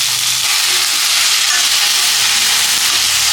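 Brinjal and other chopped vegetables sauté in a hot pan, giving a loud, steady sizzle with the soft scrape of stirring throughout and no talking.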